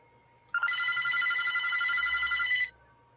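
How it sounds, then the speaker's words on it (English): A telephone bell rings once in a single steady electronic trill lasting about two seconds, fairly close and clear against a quiet room. "yet another phone starts to ring"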